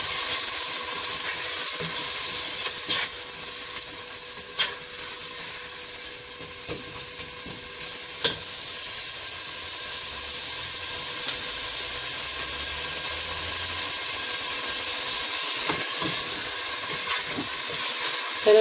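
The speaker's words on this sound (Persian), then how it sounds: "برنجمون هم با سبزیم یه تفت کوچیک میدم" Rice and herbs sauté in oil in a pot for kateh, a steady hissing sizzle throughout with occasional clicks and scrapes from stirring, no talking.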